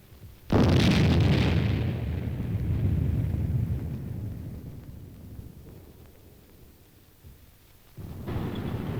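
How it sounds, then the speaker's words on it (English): Simulated atomic explosion during a military field exercise: a sudden loud blast erupts, followed by a long rumbling roar that slowly fades, then a second surge of rumble near the end. "A mock mushroom cloud rises high in the sky as simulated atomic explosions add"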